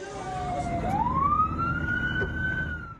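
An ambulance siren in Gaza wails continuously, its pitch swooping down and then rising in a long sweep, loud and fairly close over steady street noise.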